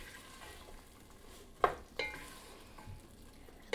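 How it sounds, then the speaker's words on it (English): Garlic and onion sizzle softly in a soup pot, a faint low crackle broken by a couple of sharper clinks and scrapes as a spoon stirs them. "And our garlic goes in the pot. And then I'm going to give it a little stir."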